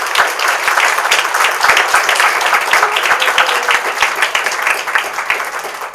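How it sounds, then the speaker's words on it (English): Audience applause for student presenters at a peace-building and criminal justice event: sustained, dense clapping from a sizable crowd, loud and close, with no talk over it. "Let's get a round of applause for all of our students."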